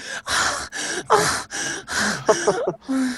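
A person playing a dragon in a tabletop role-playing session imitates heavy panting, a series of about seven loud, close, rhythmic breathy gasps with occasional voiced rasps between them.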